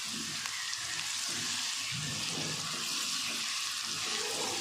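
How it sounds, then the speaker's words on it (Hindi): Garlic-ginger paste frying in oil in a nonstick pot over medium flame, a dense continuous sizzle with soft bubbling and occasional stirring underneath, close and steady with no talking. "लहसुन अदरक का पेस्ट हमने 1 चम्मच लिया। अच्छे से हमने इसकी बुनाई कर दी।"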